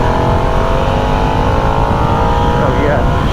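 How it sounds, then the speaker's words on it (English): A Harley-Davidson Nightster motorcycle engine runs at high revs while riding in gear, a loud continuous droning roar with a steady pitch and a slight rise near the end, with wind rush underneath. "you notice a change in the engine sound"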